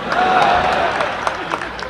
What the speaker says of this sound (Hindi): आप तो ताली बजा देना